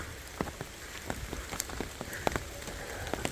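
Rain patters on an umbrella during a walk through New York, a close, steady hiss dotted with sharper individual drops striking the canopy.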